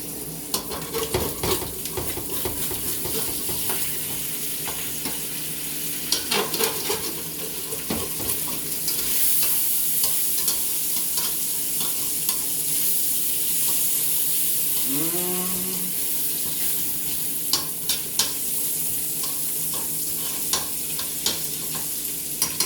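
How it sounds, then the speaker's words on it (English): Steady sizzling and crackling from bacon frying in a pan runs throughout, with occasional stirring clinks and a brief trickle of water. "keep frying that bacon"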